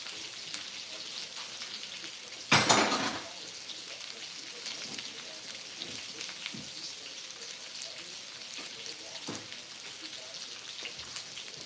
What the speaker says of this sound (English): the sausage is cooking up real good